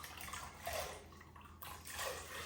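Rinsed chickpeas (garbanzos), still in a little water, are tipped into a cooking pot for a stew, giving faint pouring and splashing in two soft bursts.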